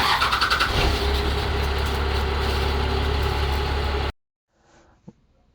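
A 1997 Dodge Ram 2500 with a 5.9 Cummins 12-valve diesel cranks with a brief rhythmic chug, then settles into a loud, steady diesel rumble for a few seconds before cutting abruptly to near silence with a faint knock.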